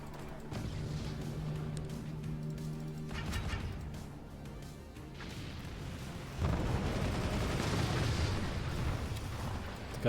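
Machine gun fire and heavy explosions rumble through a battle in the strategy video game Forts, with a dense, continuous barrage of booms and crackle that swells louder partway through.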